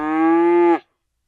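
A single cow moos loud and close, one sustained bellowing call lasting under a second before abrupt silence; the setting is a town once known as Cowtown, where cows, sheep and pigs roamed the streets.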